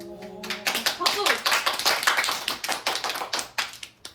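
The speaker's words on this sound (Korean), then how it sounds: "박수!" A small audience at an otaku presentation event claps in quick, sharp bursts at close range, the rapid irregular hand claps filling the room after a brief spoken word at the start.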